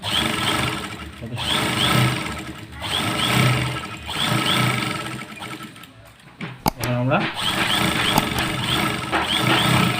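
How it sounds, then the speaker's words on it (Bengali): A sewing machine stitching a new zipper fly onto a pair of pants runs in rhythmic, buzzing bursts of fast stitching, separated by brief pauses and a short mechanical clatter, close and fairly loud. "এখানে আমরা 2-3টে সেলাই দেবো, 2-3টে সেলাই।"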